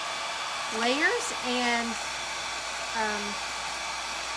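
A hair dryer blows steadily on pumpkin spice garland craft pieces, a constant airy whoosh with someone talking briefly over it.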